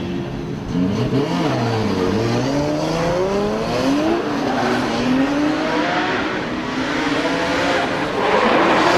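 A drift car with an 850 hp 2JZ engine at Circuit Paul Ricard revs hard and rises and falls in pitch through a run of slides, with tire squeal over a continuous loud roar.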